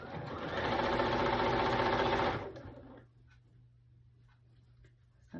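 A sewing machine runs steadily for about two and a half seconds while stitching a quilt block, then stops, leaving faint room hum with a few small handling clicks.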